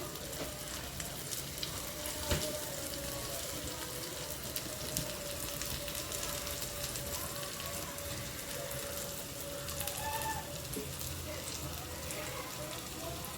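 Chole tikki patties frying in oil in a pan as they are flipped, giving a steady, dense sizzle throughout with one brief knock near the start.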